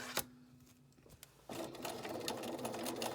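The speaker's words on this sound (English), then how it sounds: "So I'm going to pull the coils over and start stitching." A sewing machine stitches in an invisible zipper, starting after a few clicks and soft handling noises with a quick, steady rattling run of stitches, fairly quiet and close.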